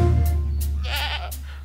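A goat bleats in a Spanish-language children's nursery rhyme, a short wavering cry that stands out over a steady low musical backing.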